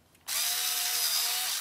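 A power drill fitted with a small chuck and drill bit, used while making a medieval bascinet helmet, starts abruptly and runs steadily at high speed with a loud, sustained whine and no talking.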